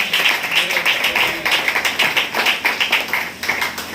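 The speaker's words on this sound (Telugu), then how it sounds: "చప్పట్లు కొట్టి గట్టిగా ప్రభువును మహిమపరచండి" A church congregation at a thanksgiving prayer claps loudly in praise, a fast rhythmic burst of many hands sustained and close throughout, with no talk over it.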